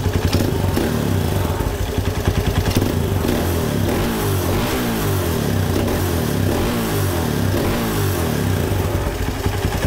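A Kawasaki MX250 motorcycle engine fitted with a new Nibbi ignition coil revs hard and close, a loud continuous throbbing roar with rapid firing pulses and mechanical clatter, held high throughout with no talking.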